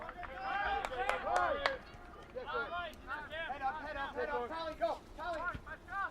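Players on the Earlham bench at a college men's soccer match against Rose-Hulman shout urgently, several voices calling over one another with crowd noise behind them.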